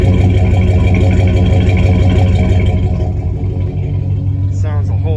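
A truck engine fitted with an upgraded air intake runs steadily at close range, a continuous low rumble and drone, with a brief voice near the end.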